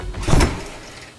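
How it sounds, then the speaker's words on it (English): The door of the world's fastest production car swings open in one smooth whooshing mechanical motion, close and brief, fading into quiet. "That's probably the coolest door I've ever seen in my life."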